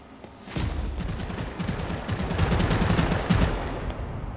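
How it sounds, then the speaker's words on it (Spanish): Gunfire rattles through a match of the vampire battle royale video game Vampire: The Masquerade - Bloodhunt, with repeated quick bursts of shots at moderate distance that build in intensity over a few seconds. "Y arriba hay gente dando tiros."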